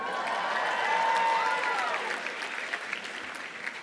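A graduation ceremony audience applauds and cheers, dense steady clapping filling a large hall, with whoops rising early and fading as the applause thins out.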